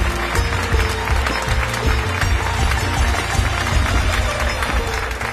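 Loud, dense audience applause welcoming a guest at a televised event, steady sustained clapping with crowd noise throughout.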